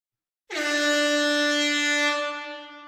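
A DJ software foghorn effect blasts in abruptly after a short silence, a loud, sustained, brassy horn tone that holds for about a second and a half before fading out.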